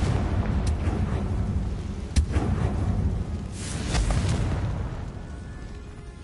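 A Confringo blasting spell in Hogwarts Legacy erupts in a sharp blast with a rumbling boom that rolls over a continuous low game soundscape, followed by further bursts and crackling.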